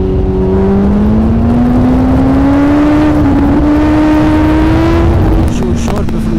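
A Kawasaki Ninja ZX10R motorcycle, rated at 200 horsepower, pulls hard on an open road, its engine whine climbing steadily in pitch under heavy wind roar, loud and close.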